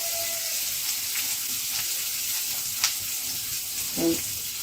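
Potatoes frying in a pan with onion and garlic give a steady, close sizzle, with a couple of faint scraping stirs and a short bubbling burst near the end.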